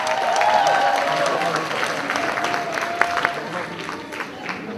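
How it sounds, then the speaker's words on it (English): An audience at an evening honoree ceremony gives a sustained round of applause for the men present, dense clapping and crowd noise throughout, with a voice speaking over it. "let's give a round of applause for our brothers out here"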